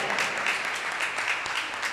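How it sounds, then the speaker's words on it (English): A crowd applauds at a church feast contest, a steady wash of clapping hands that keeps going throughout, moderately loud with no voices on top. "Give them a big round of applause"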